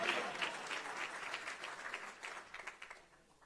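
A church congregation breaks into sustained applause, a dense wash of many hands clapping that gradually thins and fades out.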